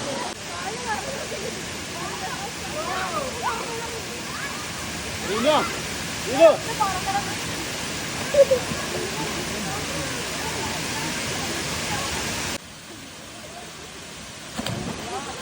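Kattikayal waterfall in Idukki, at low water flow, roars as a steady broadband rush throughout, with a few brief vocal sounds and splashes on top before the level drops near the end.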